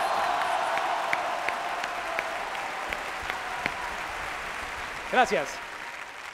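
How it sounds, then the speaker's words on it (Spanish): Applause from an audience at a Latin American industry seminar fills the background steadily, fading somewhat, while someone speaks over it and a brief voice rises near the end. "aplauso fuerte para él."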